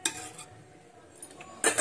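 A lid clinks onto a metal pot of paneer curry with coriander on a home kitchen stove, giving two short bright metallic knocks at the start and end with quieter scraping in between.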